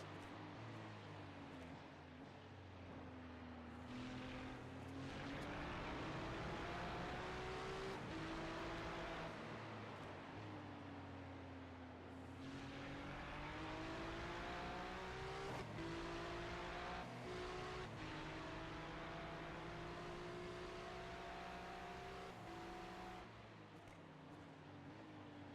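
A Ferrari race car engine drones on a racetrack, its pitch rising and falling through gear shifts and corners in a continuous roar that swells louder mid-clip, heard from close by with no talking.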